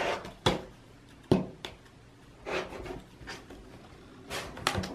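Scissors trim excess fabric from a sewn bucket bag seam, giving a few sharp close snips and cuts separated by soft rustling and rubbing of cloth, with no talking.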